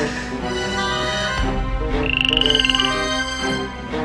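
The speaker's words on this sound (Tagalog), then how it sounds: "Palaka!" A frog croaks in a rapid pulsing burst partway through, loud and close, set against a backing of music and other sounds.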